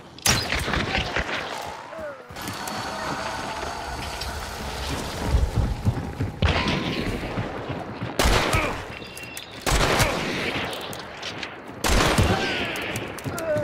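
Gunfire in the online shooter Hunt: Showdown, with several bursts of rapid shots and heavy booms cracking out over a 14-second firefight, loud and close, mixed with game ambience and short pauses between volleys.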